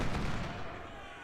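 Cannon fire in the video game Ultimate General: Civil War, a continuous rumbling battle din of overlapping booms and shots that fades slightly toward the end.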